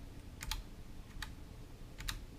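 Three light clicks of typing on a GMMK 104 RGB modular mechanical keyboard with Gateron switches, quiet and close, spaced irregularly over faint background hiss.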